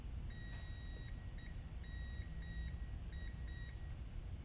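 A multimeter's continuity tester beeps in several short high-pitched tones of varying length, clear over a low background hum.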